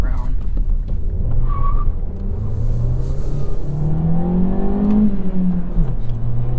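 A 2023 Volkswagen Jetta engine revs up inside the cabin, its pitch climbing steadily then dropping as it settles, a loud droning rise under people talking.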